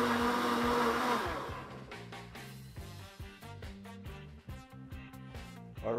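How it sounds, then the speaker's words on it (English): A blender whirs loudly crushing ice for a cocktail, its pitch shifting and settling; rattling chunks and a motor drone, up close with no voices. "And now it's time to blend it."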